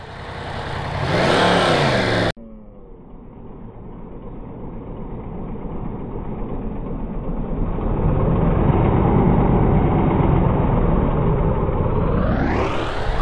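After a short burst of noise, a Yamaha FZ-10 (MT-10) motorcycle engine idles and then revs steadily louder, rising into a high whine at the close, loud and close.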